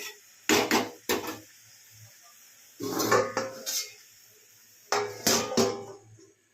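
A lid set on a cooking pot of carrot halwa with milk, several clattering metal-and-wood knocks in three short bursts separated by quiet pauses, close-up and without speech.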